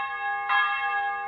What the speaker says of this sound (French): Vous entendez les cloches de Pâques?